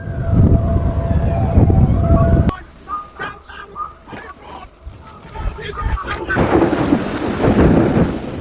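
Thunderstorm with loud, continuous rain and rumbling thunder at first, then a quieter stretch with scattered tonal wails like distant sirens, before the rain and wind noise swell again.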